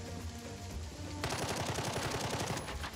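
Gunfire in the turn-based tactics game Jagged Alliance 3: a rapid automatic burst kicks in after a second of low ambient rumble, rattling loudly and continuously to the end.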